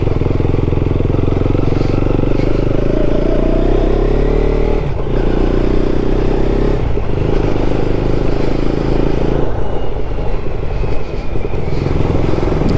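A KTM Duke motorcycle is ridden and revved toward high RPM, its engine note rising and falling through continuous loud, close road and wind noise over about thirteen seconds.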